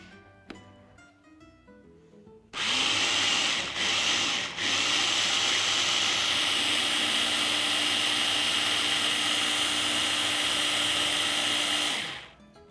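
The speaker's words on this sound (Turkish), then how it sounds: "Şimdi bütün bu karışımı blenderdan geçireceğim." A blender whirs loudly and steadily for about ten seconds as it mixes a smoothie of bananas and nut butter, starting abruptly, dipping briefly near the start, then cutting off, with quieter kitchen sounds before it begins.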